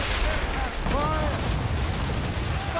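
Ship cannons firing in Assassin's Creed Rogue during a naval ambush at sea, a dense, continuous volley of booms and crackling blasts under shouted voices.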